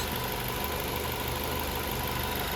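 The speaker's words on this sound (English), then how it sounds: "nice and smooth running engine, no odd noises or vibrations" A 2011 Ford Focus SE engine idles smoothly and steadily, a constant low rumble with no changes in pitch and no voices.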